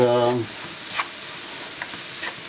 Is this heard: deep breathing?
no